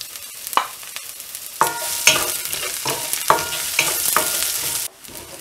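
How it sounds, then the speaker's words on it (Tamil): Onion sautéing in a pan for drumstick leaf poriyal, with steady sizzling and repeated scraping stirs of a spoon against the pan, fairly close and with no talk. "இப்போ வந்து இதில் வெங்காயத்தை ஆட் பண்ணிட்டு வதக்கிடணும்."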